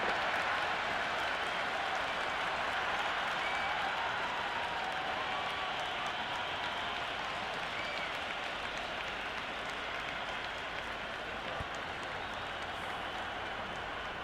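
A steady roar of spectators fills an IPL cricket stadium during a Gujarat Titans versus Punjab Kings match, broad and continuous with scattered applause, holding at an even level for the whole stretch.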